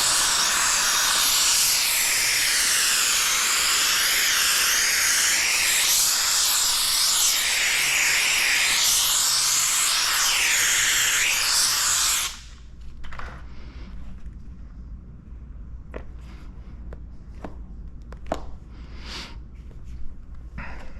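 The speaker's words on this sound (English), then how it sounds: "we're going to put some steam on that to start the curing process" A steamer blasts a loud, steady hiss of steam onto paint protection film on a Harley Davidson side panel cowling for about twelve seconds, then cuts off, leaving faint clicks and small handling noises.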